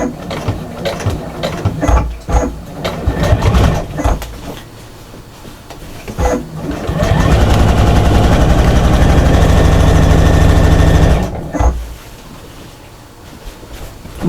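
A sewing machine runs close and loud while stitching a shopper bag, with short whirring bursts followed by a long steady run of stitching, then stopping.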